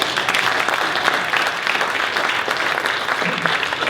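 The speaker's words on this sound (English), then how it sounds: "So give yourself a round of applause." An audience at a city's State of the City presentation claps steadily, a dense even wash of applause lasting several seconds.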